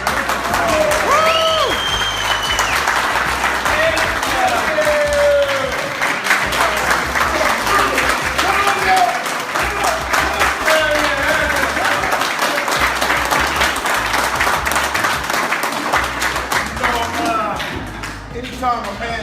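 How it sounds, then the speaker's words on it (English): Banquet audience applause for a speaker, a loud continuous crowd clapping with whoops and cheers mixed in, sustained for a long stretch before easing slightly at the end. "why don't we give Suge a big round of applause"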